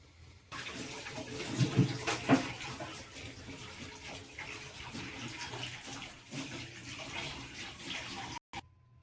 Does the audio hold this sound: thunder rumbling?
no